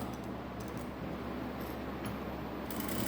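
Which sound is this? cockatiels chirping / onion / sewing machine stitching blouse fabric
sewing machine stitching blouse fabric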